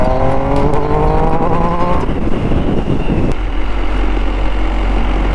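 An MV Agusta Dragster 800 RR motorcycle accelerates hard from low revs, its engine note climbing in steady harmonic steps before dropping into a loud, rough roar with heavy wind buffeting, close and continuous.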